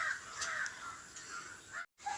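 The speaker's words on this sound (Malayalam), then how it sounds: "എൻ്റെ കാക്കച്ചക്കനും എൻ്റെ കൂടെ ഇവിടെ ഇരുന്ന് മുന്തിരിങ്ങ തിന്നുമായിരുന്നു" A crow caws nearby in a few harsh calls over quiet outdoor background, with a brief cut near the end.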